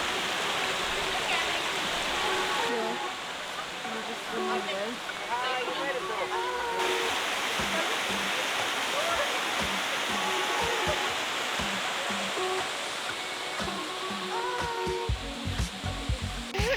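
Rushing waterfall and stream water in Rishikesh, a continuous broadband roar that stays steady throughout, with voices faintly audible over it.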